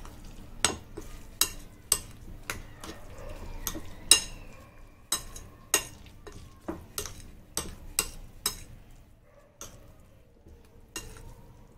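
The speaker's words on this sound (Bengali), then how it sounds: "ভালো করে মিশিয়ে নেবো এটাকে" Banana flower paturi mixture is stirred and mixed by hand in a bowl, about twenty sharp, close spoon-against-bowl knocks in an irregular rhythm over a soft background hum, no talking.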